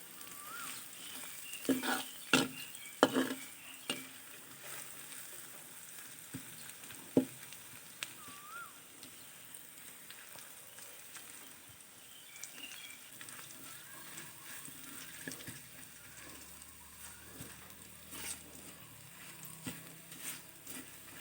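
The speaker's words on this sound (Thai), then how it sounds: "ค่อยๆ เจียวไปครับ พอตจะเจียว จนกระเทียมมันเหลืองเลยนะครับ" Garlic fries gently in oil until golden, a quiet continuous sizzle with scattered sharp pops and crackles clustered early, then a soft, even hiss, with no voices.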